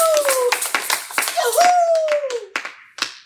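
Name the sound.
congregation applauding in church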